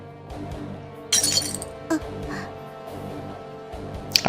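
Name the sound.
dropped object shattering, visual novel sound effect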